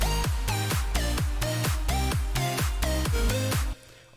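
A harsh, detuned square-wave synth with chorus and a saw layer pumps out fast, even rhythmic stabs over a deep bass pulse, loud and dense, then drops off abruptly near the end.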